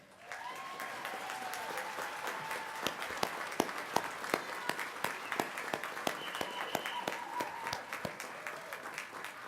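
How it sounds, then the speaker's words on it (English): An audience at a technical institute graduation ceremony gives the graduates a rousing round of applause; a steady wash of clapping with distinct close claps carries on throughout, over faint background voices. "we could give them a rousing applause"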